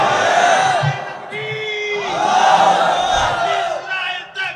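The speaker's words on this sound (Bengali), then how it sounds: "আল্লাহু আকবারের তাকবীরের স্লোগান দাও" A large crowd at a religious gathering shouts the Allahu Akbar takbir in unison, with rising and falling waves of loud voices repeated across the clip.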